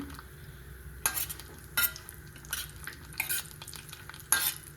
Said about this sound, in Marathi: हे टाकून छान हलवायचं आहे एक मंद गॅसवर थोडेसे खरपूस भाजून घ्यायचे